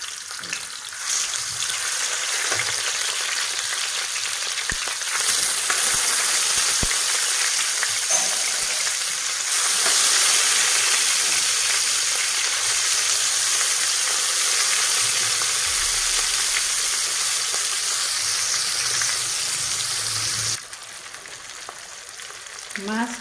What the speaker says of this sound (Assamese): মাছ ভাজি ল'ম